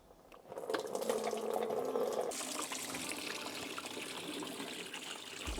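Fluid poured in while filling a 1995 Renault Twingo during a service, a steady close gush that starts abruptly and then settles into a continuous trickling flow, with no speech.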